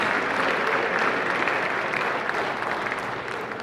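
A crowd applauds Army football award winners at a 2024 season awards banquet, steady dense clapping filling the room without pause and tapering slightly toward the end.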